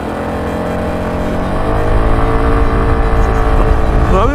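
KYMCO KRV 180i scooter launching hard with traction control on, its engine note climbing steadily and growing louder over several seconds as it accelerates, with a rising whine near the end.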